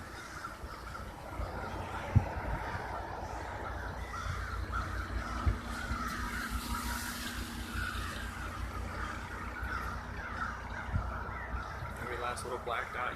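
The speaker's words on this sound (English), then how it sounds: "There are tens of thousands of crows just going ape shit in the sky." Tens of thousands of crows swarm overhead, their caws blending into a dense, continuous far-off chorus with a few sharper calls, while a person talks over them and occasional thuds land nearby.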